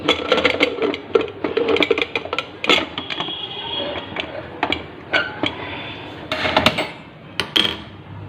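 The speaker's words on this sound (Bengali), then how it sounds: "চলো ঢাকনাটা আটকে দিই।" A metal lid clatters onto a cooking pot of split urad dal and rice, a run of sharp close clinks and taps, with a louder cluster of rattles near the end.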